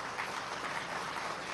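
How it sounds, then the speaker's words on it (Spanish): Audience applause for the Puerto Rico delegation at the opening of the Filven 2015 international book fair, a steady, dense wash of clapping that holds evenly throughout without a break. "Aplauso a Puerto Rico."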